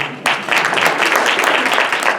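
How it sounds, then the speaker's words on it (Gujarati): An audience at a Ram Navami devotional gathering breaks into applause after a soft start, dense steady clapping that swells and holds at full strength to the end. "તાળી તો હરખી પાડ"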